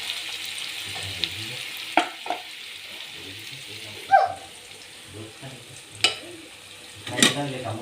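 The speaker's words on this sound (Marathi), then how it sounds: "आता अजून कांदा भाजतोय थोडंसं मीठ टाकतो ह्याच्यात" Onions roast in a home kitchen pan with a pinch of salt for a dal dish, giving a soft sizzle with occasional scraping stirs and clinks of a spoon at irregular intervals, close by.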